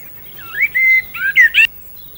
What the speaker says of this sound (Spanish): El mirlo es, con mucha diferencia, el pájaro más abundante y notorio por sus cantos.